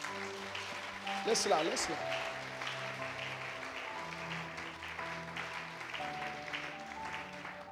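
A church congregation applauds the Lord, a soft, steady clapping texture beneath sustained music and a voice speaking over it throughout.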